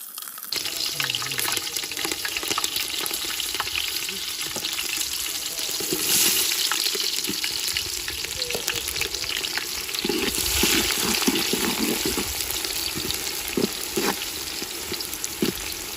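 Green chillies fry in hot oil for Rayalaseema natu kodi pulusu, making a dense continuous sizzle with crackling pops and occasional stirring scrapes, close and loud throughout, no talking.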